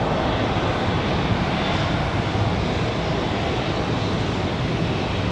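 Jet airliner engine roar at Raleigh Durham International Airport on a windy day, a loud, broad, steady rumble that fills the air without a break and stays close and constant throughout.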